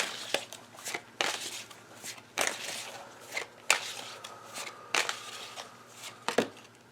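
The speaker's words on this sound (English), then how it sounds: "This isn't normally how I shuffle. Usually cards don't fall out." Tarot cards are shuffled by hand close up, a series of sharp slapping riffles and soft shuffling bursts spaced irregularly, with quiet gaps between.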